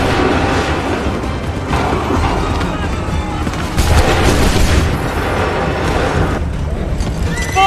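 Cannons fire a volley in the Assassin's Creed 3 video game, loud booms rolling over a constant battle din with a few heavier blasts close together.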